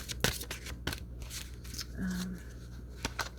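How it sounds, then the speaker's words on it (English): Tarot cards are shuffled in quick riffling bursts with a few sharp clicks, close by, amid light background noise and no clear talking. "This one I feel like needs to be shuffled more."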